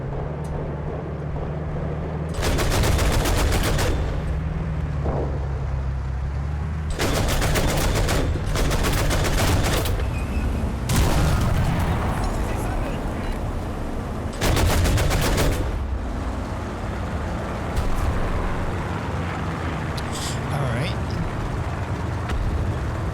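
Bursts of vehicle machine gun fire in the War Thunder game, several long, loud, rapid strings of shots separated by short pauses over a steady engine rumble.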